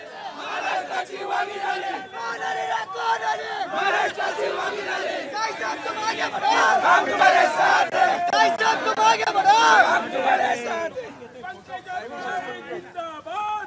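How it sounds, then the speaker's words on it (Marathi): Political supporters gathered to celebrate a candidacy cheer and chant together, a loud, rising mass of shouting voices with overlapping chatter that swells toward the middle and eases off near the end. "विधान परिषदेसाठी उमेदवारी जाहीर झाल्यानंतर सध्या पंकजा मुंडे समर्थकांमध्ये आपल्याला जल्लोष दिसून येतोय।"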